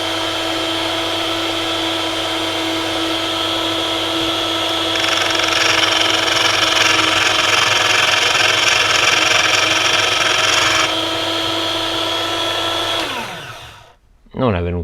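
A Parkside PBSG 95 D5 or PSS 65 A1 B1 drill bit sharpener runs with a steady motor whine while it grinds a drill bit's cutting edge. A harsher grinding layer joins midway, and the machine then winds down and stops abruptly.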